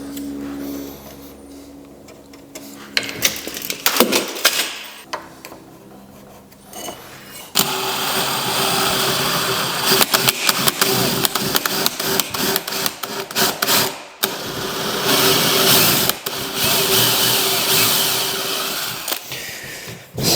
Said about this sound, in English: I'm going to go through and drill a 15mm hole in that spot